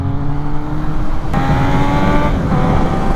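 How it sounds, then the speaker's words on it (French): Triumph Street Triple R motorcycle with aftermarket exhaust pipes, a loud, close, aggressive engine note that pulls up through the revs, then shifts and climbs again. "quel plaisir que d'entendre des pots comme ça là qui font un bruit rageur"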